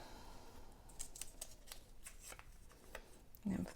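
Scissors snip through brown paper for a bookmark craft in a run of soft, close, irregular cuts, quiet throughout, with a brief louder rustle at the end.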